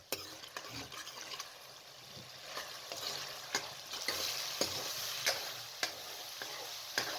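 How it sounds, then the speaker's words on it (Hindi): Kadhi masala cooking with pickle in a pan, stirred with a spoon: a continuous sizzle broken by repeated scraping strokes and taps of the spoon against the pan, irregular but steady, no speech. "इस तरीके से चम्मच भी हिलाते जाएं ताकि तमाम चीज़ें अच्छे तरीके से मैश हो जाए"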